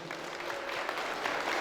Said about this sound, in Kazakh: болсын дегендер шапалақ ұрып қойсыншы.